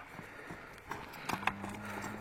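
A large horse being shown for sale walks on hard ground, its hooves giving a few faint clip-clop strikes close together over a quiet outdoor background with a low steady hum.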